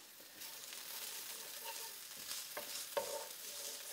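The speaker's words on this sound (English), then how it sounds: "we're going to add our ginger and garlic and cook them through." Ginger and garlic fry with browned onions in a pan, giving a soft continuous sizzle with occasional stirring scrapes, faint and close.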